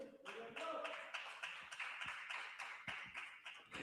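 A church congregation claps together in a steady rhythmic beat, fairly distant and soft, with a voice faintly audible beneath the clapping.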